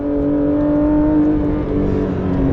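A Porsche 911 GT3 RS with its 4-liter flat-six engine pulls hard and loud under acceleration on an open road, a steady close engine drone with strong harmonics throughout.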